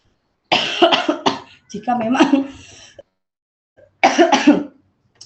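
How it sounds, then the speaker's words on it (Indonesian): Several sharp coughs in a row, close to the mic, then a pause and another short burst of coughing. "maaf, saya ada sedikit batuk"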